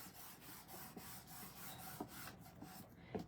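A folding tool rubbed firmly over card stock while making a greeting card, a steady rhythmic scraping of repeated close strokes with a few soft taps near the end.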